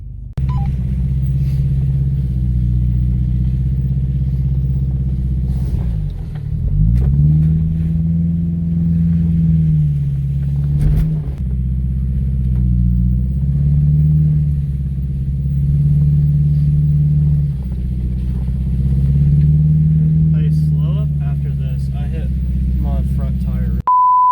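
A Subaru driving off-road on an outdoor trail gives a continuous low engine rumble that rises and falls with throttle, with people talking over it and a few brief beeps.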